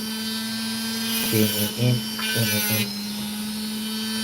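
A Dremel rotary tool grinding opal, a steady high whine with a constant hum, rising into louder grinding bursts as the stone is worked before settling back, while a voice speaks briefly.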